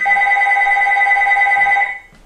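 A telephone rings in one continuous tone of two steady pitches for about two seconds, then stops abruptly, leaving a quiet room.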